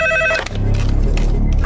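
A telephone bell rings loudly for about half a second before it cuts off, followed by a low, busy hum of background noise.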